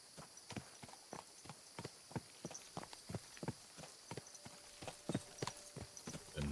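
Horse hooves clip-clop at a steady walking pace in the video game Kingdom Come Deliverance 2, crisp evenly spaced strikes close by over a faint hum.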